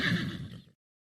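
A single horse's neigh, close and loud, a shrill whinny over a lower rumble for about three quarters of a second and then cutting to silence.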